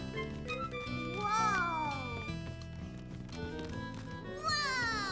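Cartoon cat meowing several times in a drawn-out, rising and falling manner, clear and up close over a steady musical soundtrack.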